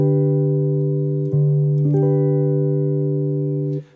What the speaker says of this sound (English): Next up, down a semitone with a bass note, so G over D.